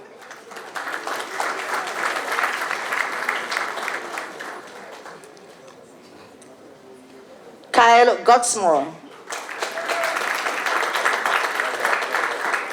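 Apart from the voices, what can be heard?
applause for graduates at a graduation ceremony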